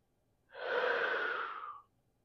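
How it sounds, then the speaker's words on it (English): One deep diaphragm breath is drawn in a quiet room, a single soft, airy rush that swells and fades over about a second and a half, close to the ear, with no talking. "as I inhale and exhale and bring breath into my diaphragm, filling it up with air"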